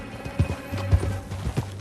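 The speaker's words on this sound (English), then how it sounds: "Back on your horse. Let's get after them." A horse galloping through a canyon in the video game Red Dead Redemption 2, with rhythmic, close, heavy hoofbeats thudding in a steady loping pattern over faint ambient game sound.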